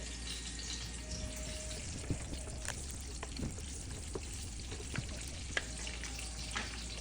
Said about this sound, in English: Now let's stir.